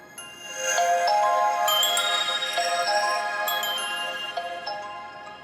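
A bright electronic ringtone melody plays loudly from the stereo speakers of an OPPO A79 5G phone at boosted volume, continuous tones ringing for several seconds with no talking.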